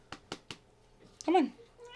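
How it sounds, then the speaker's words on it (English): A pet cat gives one brief meow after a few soft taps, close by in a quiet room. "So this is Concha, just my little kitty cat."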